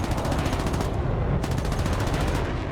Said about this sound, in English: He quickly realized that tracer rounds were flashing past his cockpit.